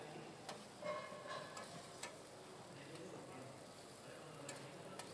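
Ingredients for Valencian rice sautéing in a pan, a faint, steady low sizzle with scattered soft ticks and clicks of a utensil, distant-sounding and quiet throughout.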